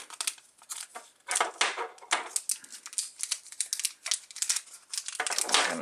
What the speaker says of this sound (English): So the Apple remote is pretty easy to unwrap.